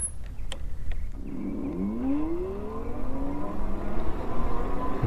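HAOQI Silver Antelope Pro 750W electric cargo bike hub motor accelerating from a dead stop, a rising whine that sweeps upward in pitch and holds, with some clicks before it starts.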